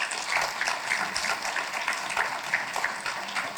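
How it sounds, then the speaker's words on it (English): Audience applause at an afternoon panel event, steady crowd clapping with a dense patter of many hands at moderate volume, alone without speech. "One more round of applause for our panel that was involved this afternoon."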